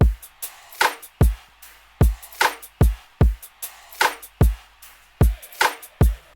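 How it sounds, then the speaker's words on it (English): A trap drum loop of punchy kicks, snappy snares and short percussive hits repeats in a steady bouncing groove, loud and close, with a faint low hum underneath and no voices. "this is how all the drums sound together"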